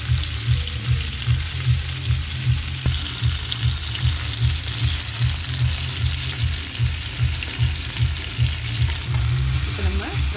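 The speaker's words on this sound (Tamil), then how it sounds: "அடுத்தது நம்ம எண்ணெய் காய்ஞ்சதுக்கப்புறம் நம்ம சிக்கனை வந்து அப்படியே ஃப்ரை பண்ணி வச்சுக்கலாம்." Chicken pieces for Kerala-style chicken kondattam frying in hot oil give a steady, close, hissing sizzle with scattered crackles over a regular low thumping pulse, and no one speaks.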